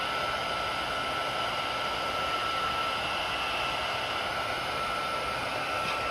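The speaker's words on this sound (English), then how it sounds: "because of blowing them with the heat tool" A heat tool blowing hot air over card stock for a handmade card, a constant loud whooshing fan roar with a steady whine, unbroken from start to finish and with no voices.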